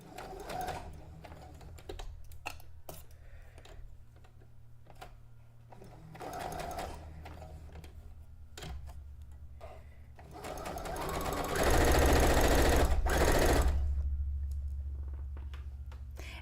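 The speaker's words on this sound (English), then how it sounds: "And sewing fast is better than sewing slow." A sewing machine runs through fabric in quick bursts of rapid stitching, growing louder and faster into a sustained fast run near the end, close up with no talking.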